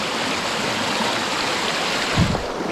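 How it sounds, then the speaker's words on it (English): A river rushes steadily across a crossing point, loud broadband water noise throughout with a brief splashy burst near the end, no talk. "I gotta try and make it across this river"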